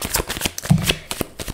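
Tarot cards being shuffled close up, a quick run of papery flicks and riffles with a few sharper snaps.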